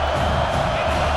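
A stadium crowd roars in the football video game College Football 26, a dense, continuous wash of cheering noise that holds steady throughout.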